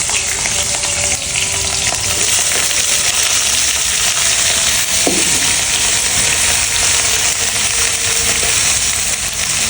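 Cabbage with green chili and garam masala fries in a hot pan, giving a dense, steady sizzle with occasional stirring scrapes and light clinks throughout, close and continuous without any talking.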